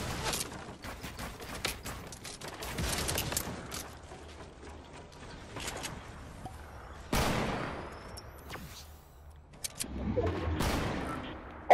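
Fortnite battle royale gunfire: scattered single shots and short bursts spread over several seconds, some loud and close, others fainter, with a few mechanical clicks between them.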